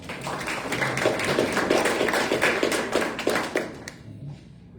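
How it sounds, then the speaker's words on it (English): Audience at a Rotary Paul Harris Fellow Award presentation claps steadily for several seconds in a room, a dense patter of many hands that thins and fades out near the end. "Round of applause."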